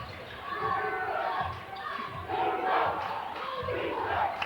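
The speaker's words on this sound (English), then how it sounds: "Crowd getting into it a little bit for South Kitsap" A high school basketball crowd roars for South Kitsap against Bremerton in a gym, with sustained shouting and cheering that swells in waves, loud and reverberant, with voices mixed in.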